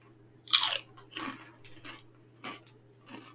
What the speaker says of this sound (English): It's kind of weird that you can hear me chomping that much.